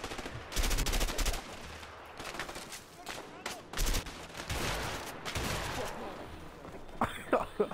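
Shotgun gunfire in the co-op game A Way Out, several loud, close blasts and bursts of shooting in quick clusters, with broadband crashes between quieter gaps.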